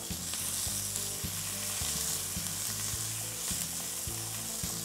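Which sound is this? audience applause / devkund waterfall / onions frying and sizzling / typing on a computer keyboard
onions frying and sizzling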